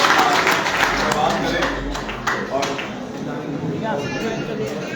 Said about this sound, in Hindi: आप अपने लिए जोरदार तालियां बजाकर